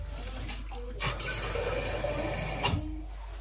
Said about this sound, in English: Should I add water first? Yeah, let me add water.